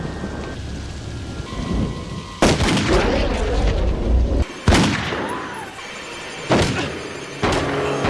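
Several sharp, loud gunshot cracks from the 2003 thriller film Identity ring out at uneven intervals over a steady roar of heavy rain and storm noise.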